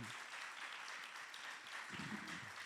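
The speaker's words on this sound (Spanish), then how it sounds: "Den un aplauso al Señor, hermanito." Church congregation applauding during a sermon, a faint but steady wash of clapping from a distance, with a brief low voice near the end.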